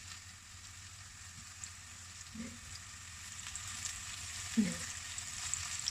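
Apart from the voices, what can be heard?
enoki mushrooms frying in cooking oil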